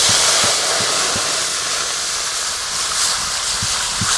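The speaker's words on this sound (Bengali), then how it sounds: "ভাতের জন্য কড়াতে জল দিয়ে দেবো।" Water poured into a hot wok (kadai) for cooking rice sends up a loud, steady steamy hiss, broad and close, with faint knocks underneath.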